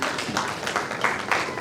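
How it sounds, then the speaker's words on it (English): Audience applause at a conference opening ceremony, a brief burst of scattered clapping from the crowd, moderately loud and steady with no voices over it. "A round of applause for him."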